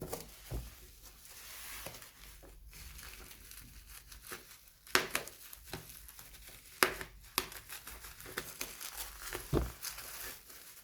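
Scissors snip through the cardboard packaging of a Rampage X-Frame AD-RX34 laptop cooler, giving irregular sharp cuts with papery crinkling and rustling close by, and no speech.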